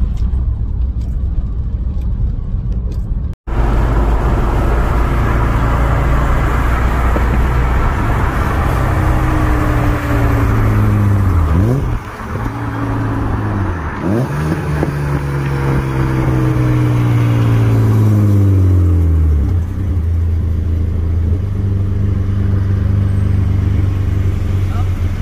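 A BMW E36 engine drones loudly and continuously at close range at a gymkhana, its pitch rising and falling through several swooping revs and shifts.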